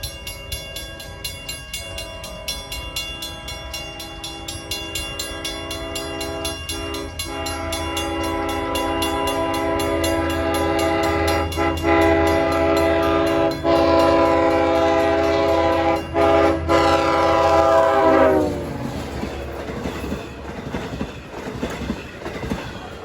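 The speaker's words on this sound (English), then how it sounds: "he's going to do some extra horn blasts tonight" A Long Island Rail Road commuter train from Hunters Point Avenue to Oyster Bay passes the New Hyde Park Road crossing at evening rush hour, sounding a long, loud sustained horn blast over rumbling wheels and clatter before the horn cuts off and the train rolls on.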